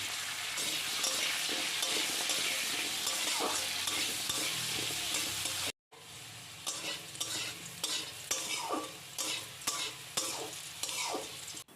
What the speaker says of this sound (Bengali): আলুর টুকরোগুলো একটু ব্রাউন ব্রাউন করে ভেজে নিতে হবে।